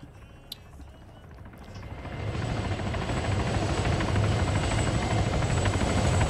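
A helicopter in a video game approaches, its rotor thump and engine roar swelling from faint to loud and holding steady.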